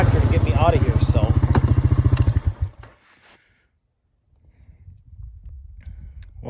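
Close up, a four-wheeler ATV engine putters in a fast, rhythmic idle while stuck in deep snow, then cuts out abruptly, leaving near silence before faint rustling resumes.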